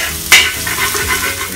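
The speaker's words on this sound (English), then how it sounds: "Heat up about 1 tablespoon of oil, fry the garlic." Garlic sizzles softly as it fries in oil in a pan, with a sharp metallic clink of a utensil against the pan near the start.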